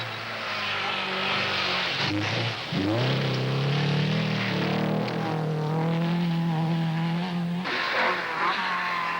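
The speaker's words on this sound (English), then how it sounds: "Tom Trana, as usual, handles his Saab confidently." Saab rally cars racing flat out on the final fast stretch of a 1970 rally near Gothenburg, Sweden: loud, close engines roaring and rising in pitch as they accelerate, with a brief dip and a gear change midway.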